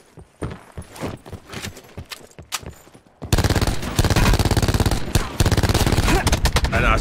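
Battlefield V gunfire starts as a few scattered shots, then becomes a loud, sustained, rapid automatic burst that runs almost continuously through the second half.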